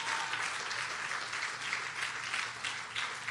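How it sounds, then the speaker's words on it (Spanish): Sustained applause from a church congregation fills the space, a dense, steady clapping that holds at an even level for the full span without any voices breaking through. "Dale un aplauso al que vive y reina."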